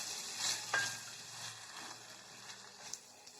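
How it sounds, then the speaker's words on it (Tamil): Tomato with thuthuvalai and mint leaves sautés in a pan for chutney, a faint, close hiss with a scrape or two of stirring and no voices. "இது கூட நம்ம எடுத்து வச்ச தூதுவளை தலையையும் புதினா தலையும் சேர்த்து ஆட் பண்ணி நல்லா வதக்கி எடுத்துக்கலாம்."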